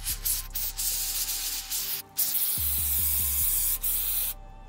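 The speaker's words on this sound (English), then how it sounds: "What we're gonna take is insulating foam, shake it for about 30 seconds to a minute, and we're gonna apply it into the little crevices of the lights" Insulating foam sprays from an aerosol can in a long, steady hiss with brief breaks, while a low electrical hum and a few soft thumps sit underneath before the spray cuts off.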